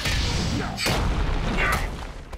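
A heavy energy blast from Iron Man in Disney Infinity 3.0 booms through a dense, noisy fight, with a deep thump near the middle and another burst shortly after over continuous rumble.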